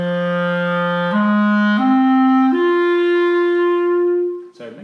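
Clarinet with a normal, clean tone plays four sustained notes stepping upward in the low register, loud and close with no other sounds, ending in a short breathy release.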